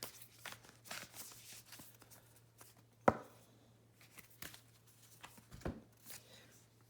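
Oracle cards shuffled by hand before one is drawn, a faint scattered riffle of papery slaps and rustles with a single sharp snap partway through, quiet under a low steady hum.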